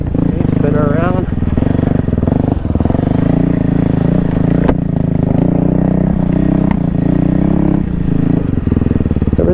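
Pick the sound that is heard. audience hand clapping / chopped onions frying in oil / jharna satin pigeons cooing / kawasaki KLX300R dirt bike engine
kawasaki KLX300R dirt bike engine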